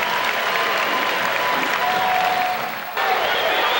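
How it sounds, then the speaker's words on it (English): Fans of the Detroit Pistons applaud at the Palace during a 1991 basketball playoff game, a dense, sustained wash of clapping from a large crowd that dips briefly and then resumes. "the fans of the Detroit Pistons here at the Palace as they continue to applaud for the Pistons"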